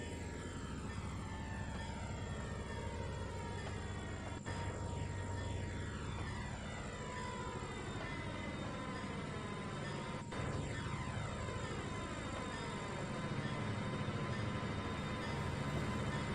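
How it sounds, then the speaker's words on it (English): A locomotive engine in the Trainz 2019 train game strains while heading downhill, a steady, droning hum that holds continuously at low volume with no voices. "the engine sounds like it's straining"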